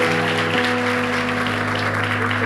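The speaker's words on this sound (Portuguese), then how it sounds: "Eu queria que você desse uma salva de palmas" A church congregation applauds during a service, a brief, even burst of clapping over sustained keyboard-like musical tones that hold steady throughout.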